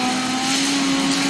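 A car drifts in Dirt 5 with a loud, steady engine drone and a sustained tire squeal, close and continuous with no talk.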